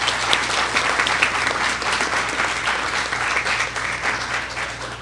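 Sustained audience applause at a college debate final as the proposition team is introduced, dense and even clapping from a large crowd with a faint hum underneath.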